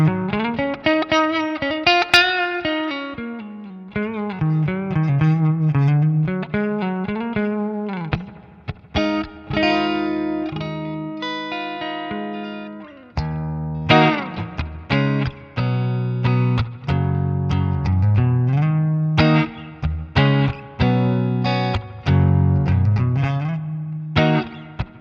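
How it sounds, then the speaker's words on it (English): Electric guitar played through a NUX amp's Fender Deluxe model on a completely clean setting, with a long run of picked notes and chords that ring loud and close, and no voice over it. "I change over to a Fender Deluxe, which sounds like this."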